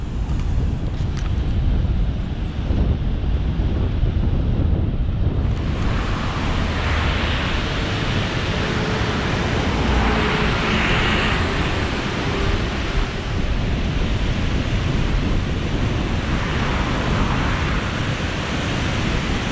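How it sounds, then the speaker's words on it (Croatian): Fast-flowing river beneath a bridge, a steady loud broadband rush of water mixed with wind buffeting the microphone, constant throughout with no talk. "Znači most preko prekrasne brze rike."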